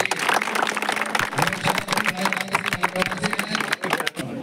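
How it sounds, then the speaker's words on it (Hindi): Crowd applause for a visiting MLA at a rally near the Rajasthan border, a dense, uneven clatter of many hands clapping close by, mixed with a faint tonal hum and murmuring crowd. "एक बार जोरदार तालियां उनके लिए।"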